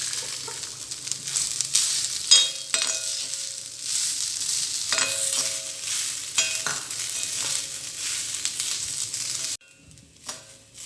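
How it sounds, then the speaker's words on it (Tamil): Grated coconut sautéing in a pan, with a steady broadband sizzle and scraping stir strokes for about nine seconds; the sound drops off abruptly near the end, leaving only faint residual crackle. "அதை வந்து நம்ம அதில் போட்டு வதக்கிக்கலாம்"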